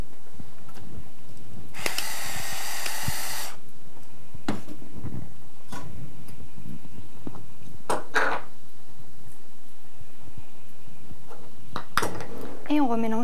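Foie gras mousse is stirred in a bowl, with a long burst of scraping and clinking utensil against the dish, then scattered taps and knocks, close by, with some talk.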